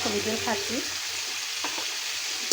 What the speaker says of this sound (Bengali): আর পেঁয়াজটা আমি একটু হালকা ভেজে দিয়ে নেবো আর এটার সাথে আমি আলুটা ভেজে নেবো